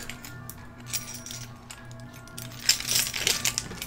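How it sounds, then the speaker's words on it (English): A bunch of metal keys jingles and clinks close by, light tinkling rattles coming in bursts that grow busier and louder toward the end, with no talk over them. "Messing with my keys at the moment."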